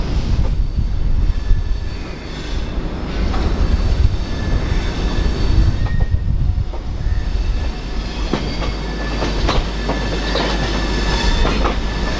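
A local train rolls along loudly with rumbling wheels and rhythmic clatter on the rails, continuous and close, with occasional metallic squeals.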